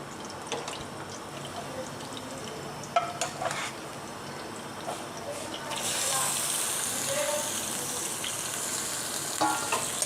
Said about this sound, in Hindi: गोश्त को हम तब तक फ्राई करेंगे जब तक इसका कलर तब्दील नहीं हो जाता